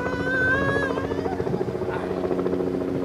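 A helicopter is heard from inside a Cessna flight, a loud, steady rotor drone with a rhythmic beating pulse throughout and no clear speech.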